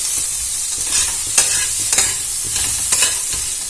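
Ingredients for amchur posto are stir-fried in a pan, giving a loud, continuous sizzle close up, punctuated by repeated spatula scrapes against the pan.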